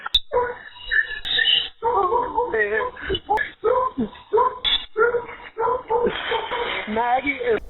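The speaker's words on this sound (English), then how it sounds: "the last few snippets of the dogs barking" Several dogs bark and yip repeatedly through the muffled, distorted audio of a recorded 911 call, their bursts mixed under voices talking on the line.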